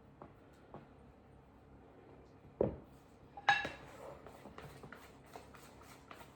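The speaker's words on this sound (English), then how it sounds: "get my spatula and I tidy it all up" A spatula scrapes Christmas cake mixture with nuts, cherries and mixed peel around a bowl: faint soft scraping broken by a few sharp clinks and knocks against the bowl, quiet and close.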